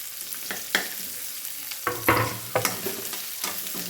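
Thickly chopped onions for gobi manchurian sauté in a pan, with a soft steady sizzle broken by several sharp scrapes and clanks of a spatula stirring, close up, with no talk.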